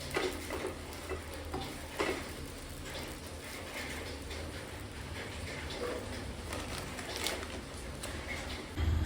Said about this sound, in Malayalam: നമ്മുടെ ബ്രെഡിന് കൂട്ടാനുള്ള മുട്ടയും പൊരിക്കാൻ തുടങ്ങി